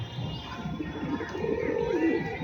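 A hungry pigeon at a loft gives soft, low cooing calls, faint and close amid quiet background noise.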